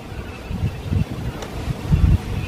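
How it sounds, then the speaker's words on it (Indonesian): Outdoor wind buffets the microphone in uneven low rumbling gusts, loud and close, over a faint background with no talking. "Ada angin."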